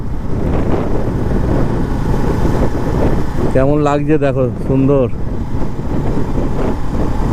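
Strong wind roars steadily past a motorbike crossing a bridge near a railway line outside Kolkata, a loud continuous buffeting rush throughout, with someone briefly talking over it midway.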